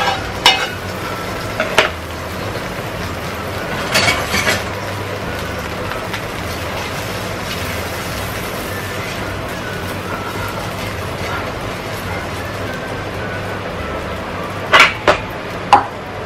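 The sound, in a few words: burger patties frying in ghee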